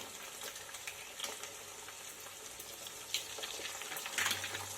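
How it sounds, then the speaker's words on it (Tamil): Eggs frying in a pan for pasta, a soft, continuous sizzle with faint crackles and a slightly louder spatter near the end. "இந்த ஸ்டேஜில் ஒரு 3 முட்டையை சேர்த்துக்கலாம். முட்டை உடச்சி ஊற்றின உடனே கலக்கக்கூடாது."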